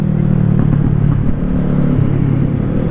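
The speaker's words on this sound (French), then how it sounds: "ça fait tellement bizarre de rouler sur une moto qui fait du bruit" Kawasaki Z650 motorcycle fitted with a new Ixil exhaust running close by, a loud steady low engine drone with slight rev fluctuations and some clatter, heard alone with no talk.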